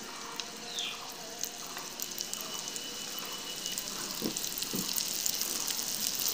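Semolina and potato snacks fry one by one in a lightly brushed pan over medium heat, giving a soft, continuous sizzle with faint crackles and a couple of small pops. No one speaks.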